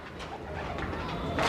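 Pigeons coo softly and steadily across the whole stretch, a low murmuring call from birds close by, with faint room noise beneath and a slight swell in loudness at the end.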